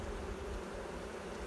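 Honey bees hum inside an opened hive among hatching worker and drone brood, a soft, steady buzzing drone that stays low and even throughout.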